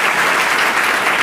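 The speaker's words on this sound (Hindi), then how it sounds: "एक बार जोरदार तालियां हो जाए" Loud, steady applause from a crowd, dense clapping filling the whole moment without any voices.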